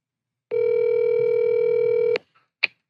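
Telephone line on a call: a steady dial tone holds for about a second and a half, then cuts off into a couple of faint clicks and one short sharp blip, with no talking.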